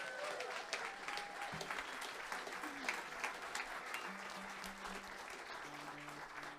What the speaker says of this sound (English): would you give John down there on sound a huge round of applause?